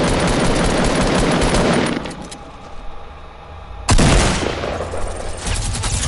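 Minigun fire in a video game: a loud, sustained rapid burst of shots that cuts off, a quieter pause with faint game noise, then a second heavy burst that tapers off.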